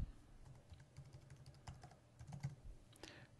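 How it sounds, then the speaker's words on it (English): Fingers type on a computer keyboard, a quiet close-up run of irregular key clicks and taps with brief pauses, with no voices. "Type in the display name."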